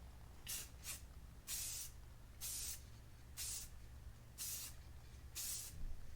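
Spray can coating a car headlight on an '06 Subaru WRX: seven short hissing bursts, each under a second, in a quiet room with a low hum behind.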